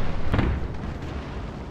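A deep cannon boom rolls out from a Napoleon Total War multiplayer naval battle, a single heavy blast with a low rumbling tail that fades away.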